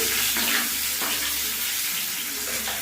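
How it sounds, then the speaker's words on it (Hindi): Finely chopped onion dropped into hot oil in a pan while cooking matar paneer, giving a continuous loud hiss and sizzle that fills the whole moment with no pause. "यहाँ पे एक मीडियम बड़े साइज की प्याज लिए थे, उसको हम बारीक कट कर लिए। इसको यहाँ पे डालेंगे।"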